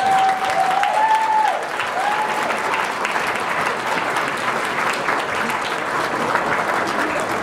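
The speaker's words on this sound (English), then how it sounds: "please give a warm welcoming round of applause" Audience applause at an evening gala, with dense, steady clapping from a large crowd sustaining for several seconds at full strength, a brief tonal squeal riding above it early on.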